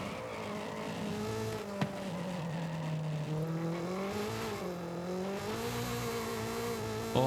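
A Honda Prelude engine in Forza Horizon 5 racing hard, its harmonic drone rising and falling continuously as revs change under steady loud throttle, with a faint tire squeal and one sharp click near the start.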